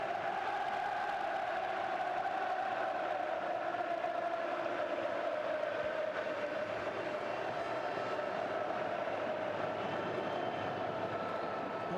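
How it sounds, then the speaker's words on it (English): A packed stadium crowd at a Real Madrid versus Barcelona La Liga match in 2006, a distant, sustained roar of cheering and chanting that swells and holds steadily throughout, with no commentary. "But the crowd loving every moment of it here."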